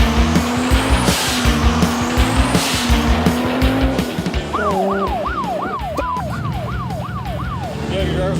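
Cars at the start of the Bullrun rally rev loudly and launch with roaring engines and squealing tires. A siren wails over the engine noise in the second half.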